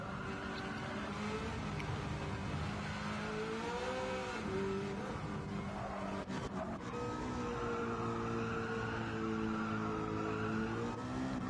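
Racing cars, a Mustang among them, in a sim racing video game, heard as a continuous engine whine that rises and falls with gear changes and revving, plus a brief burst of tyre or contact noise partway through, with no talk.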